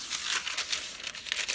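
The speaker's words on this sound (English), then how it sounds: "crinkle paper. I love the sound." Junk mail paper pamphlets are crumpled and folded close up, giving a soft, continuous crinkling with small bursts of rustle and no talking.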